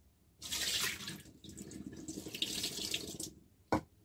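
Tap water runs into a sink while lion's mane mushrooms are rinsed and squeezed under it. A steady splashing stream lasts about three seconds, then a brief clunk follows.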